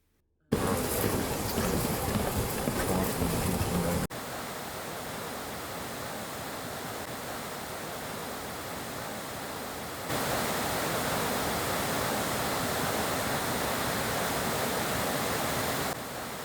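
Root Beer Falls, the lower falls of a waterfall with brown, tannin-stained water, roars as a loud, continuous broadband rush that holds steady throughout, with no voices.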